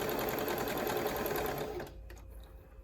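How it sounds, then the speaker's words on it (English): A sewing machine stitches quilt squares along a quarter-inch seam, a rapid, even mechanical whirr for almost two seconds before it stops, leaving a few faint clicks and low room noise. "sewing machine."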